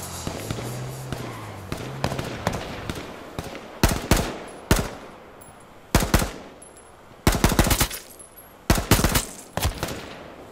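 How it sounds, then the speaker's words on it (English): Gunfire in H1Z1: Battle Royale: scattered single shots and short bursts crack out at irregular intervals, some loud and close, others fainter, over a low game ambience with no talking. "They're shooting at me."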